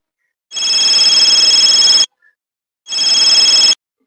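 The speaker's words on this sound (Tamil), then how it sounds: "ஐயோ அப்பா ஃபோன் பண்றாரு" An electronic phone ringtone trills loudly in two long bursts separated by a short pause, with nothing else in between.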